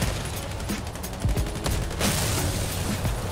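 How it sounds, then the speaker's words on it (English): Rapid gunfire rattles through a Crossout vehicle battle, dense bursts of automatic shots mixed with heavier booms, loud and continuous with no talking over it. "I hear shooting, I just don't see what they're shooting at."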